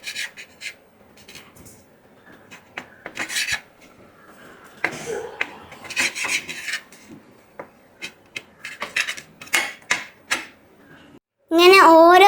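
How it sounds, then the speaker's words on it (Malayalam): Knife slicing the brown crusts off bread slices: a series of short, crisp scraping cuts in quick clusters, close and quiet, with a voice speaking briefly near the end. "ഈ ബ്രെഡിൻ്റെ സൈഡത്തെ ബ്രൗൺ ഷെയ്ഡുള്ള ബ്രെഡ് കട്ട് ചെയ്ത് മാറ്റണം"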